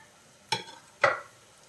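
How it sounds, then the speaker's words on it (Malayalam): Onions and chopped kudampuli (garcinia) are stirred in a hot pan, two short scraping, sizzling strokes roughly half a second apart, close and clear against a quiet background. "കുടംപുളിയും കൂടി ചേർത്തിട്ട് നമുക്ക് നന്നായിട്ട് വഴറ്റിയെടുക്കാം"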